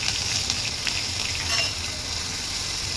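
Curry leaves frying in a pan send up a constant close sizzle and crackle, steady and fairly loud with no voices.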